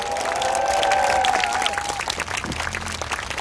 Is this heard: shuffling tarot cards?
no